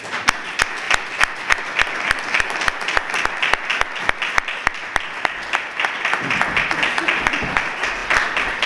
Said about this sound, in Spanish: Así que un aplauso para Valdepeñas.